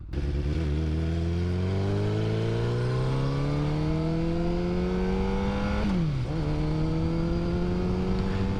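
A Honda CBR motorcycle engine revs up steadily through a gear, its pitch climbing, then dips briefly at a shift and carries on at a loud, close, constant drone while riding.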